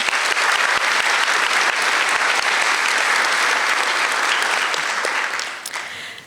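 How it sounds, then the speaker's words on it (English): Audience applause at a high school senior awards ceremony, a dense, steady wash of many hands clapping at full strength that holds for about five seconds before tapering off near the end. "One final round of applause for our Casey Scholars."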